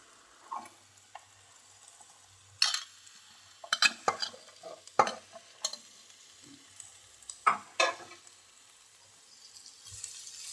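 Shredded cabbage sautés in a pan for egg noodles, with a faint low sizzle broken by a series of sharp close scrapes and taps of the spatula, irregular and without talk.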